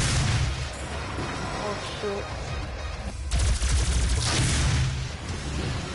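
A gun fires repeatedly in the shooter game Doom, giving booming, heavy shots in rapid bursts with a louder volley midway. A voice briefly exclaims over the gunfire.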